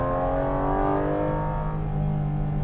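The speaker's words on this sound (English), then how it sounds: "The first thing that you notice in this car is that induction noise." A Porsche GT4 RS engine drones loudly and steadily from inside the cabin, its deep harmonic induction roar holding a constant pitch without a break.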